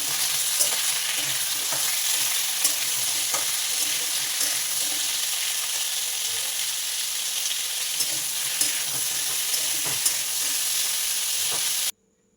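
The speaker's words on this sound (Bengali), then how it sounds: "এবার পরিমাণ মতো নুন দিয়ে একটু নাড়াচাড়া করে ঢাকা দিয়ে দেবো" Soaked lentil dish frying in oil with salt, stirred steadily with a spoon, giving a continuous close sizzle with scattered light scraping clicks for about twelve seconds before cutting off abruptly.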